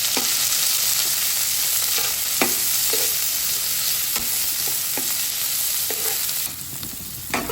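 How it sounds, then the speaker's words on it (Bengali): Chopped onion, chili and whole cumin seeds sizzle steadily in hot oil in a pan, a dense close hiss with intermittent scraping clicks as they are stirred. "তার সাথে দিয়ে দিচ্ছি কেটে রাখা পেঁয়াজ ও মরিচ। এগুলো একটু নেড়ে চেড়ে হালকা ভেজে নেব।"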